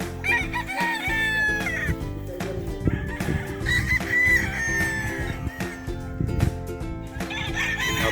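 Sweater Boston gamefowl roosters crowing in a yard, several loud, clear cock-a-doodle-doo calls overlapping with clucking and background farm noise, close by and repeated across the span.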